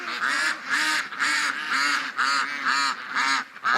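A flock of ducks in a wet farmyard quacks loudly and repeatedly up close, in a steady run of about a dozen raspy calls with short gaps between them.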